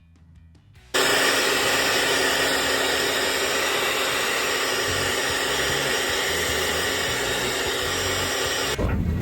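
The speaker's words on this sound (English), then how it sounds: "I'm about to blow dry this Labubu" A hair dryer switches on after a second and blows with a steady, loud roar for several seconds before cutting off, drying a Labubu plush toy.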